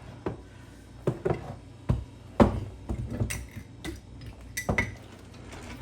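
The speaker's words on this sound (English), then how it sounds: "I'm going to use this medium-sized pot." Several short metallic clanks and knocks, a medium-sized metal pot being picked up and set down, with scattered clinks at an irregular pace, close by.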